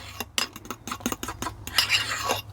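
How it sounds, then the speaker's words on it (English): A utensil scrapes and clinks against a bowl while melted ghee is mixed into keto pancake batter, quick irregular close strokes with a soft stirring rasp. "I'm just going to mix that melted ghee in the batter."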